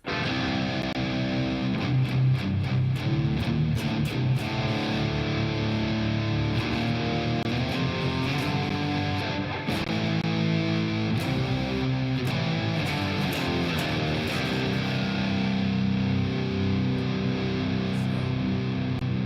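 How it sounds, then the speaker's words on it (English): A Fender Jazzmaster electric guitar played through heavy reverb and chorus effects, strummed chords and notes ringing with a wide, washy shimmer, steady and fairly close with no talking. "it's a little heavy on the reverb and chorus"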